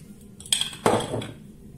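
A metal spoon clinks twice against a bowl or measuring spoon while pepper and ginger go into a harira soup mixture, two short bright taps close by in a quiet kitchen.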